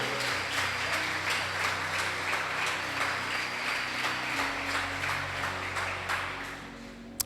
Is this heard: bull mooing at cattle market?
no